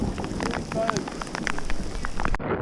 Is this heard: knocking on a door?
no